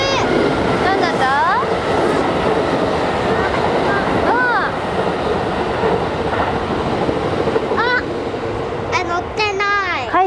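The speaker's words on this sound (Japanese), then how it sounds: "おー、 伊勢志摩ライナーだ。" A Kintetsu Ise-Shima Liner passes a level crossing inside a station, its loud rumbling and clattering wheels mixed with the crossing's repeating warning bell. People talk over the passing train.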